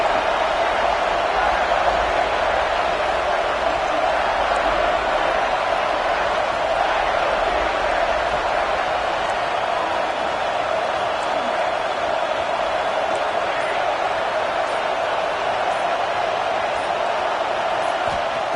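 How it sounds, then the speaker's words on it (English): A large stadium crowd at an American football game roars in a continuous, dense wash of noise from start to finish, loud and steady, with a commentator speaking over it. "the crowd really making some noise now, trying to help out this defense to get this stop"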